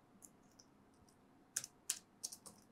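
Java code is typed on a computer keyboard in a quiet room, a few soft scattered taps giving way to a short burst of sharper keystrokes near the end.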